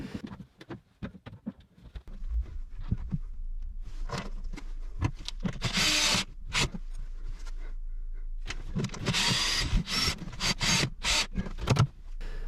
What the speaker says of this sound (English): The workshop is made from engineering brick, but the SDS makes short work of the drilling